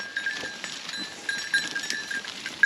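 Sheep and goats on a mountain hiking trail near Bursa give scattered bleats and shuffle along as a flock, with light clinks from bells, fairly close and steady throughout.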